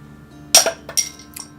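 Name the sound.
beer bottle opened with a bottle opener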